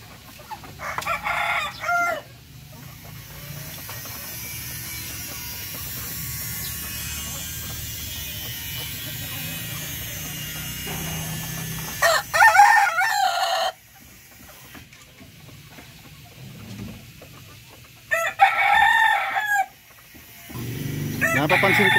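A breeder's rooster crowing in a Filipino backyard poultry setting: loud, close crows at the start, middle and end, with a steady mechanical hum underneath and a voice talking briefly near the end.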